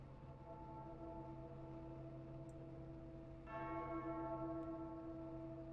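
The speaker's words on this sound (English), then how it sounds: "bells ringing in the background" Church bells ring in the distance at a USA Pro Cup Series race track, faint sustained tones that swell with a fresh strike partway through and linger under a quiet ambient hum.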